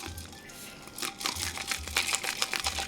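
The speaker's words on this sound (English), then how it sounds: "That sound was me shaking around my drink." A drink being shaken around in its container, giving quiet rattling, crinkling bursts in quick irregular succession, close and fairly faint, with no talking.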